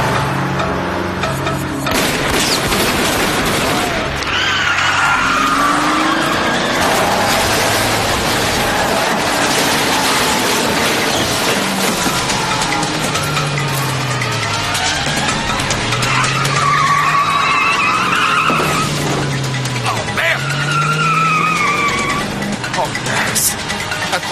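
A car drives fast with repeated tire skids and squeals rising and falling over roaring engine noise, loud and close, with a voice speaking over the action.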